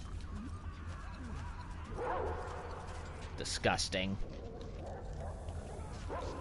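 Dogs in the game Metro: Exodus, kept for a cruel fighting sport, bark and whimper in short bursts, with one louder yelping outburst midway, mixed with game ambience while someone speaks briefly.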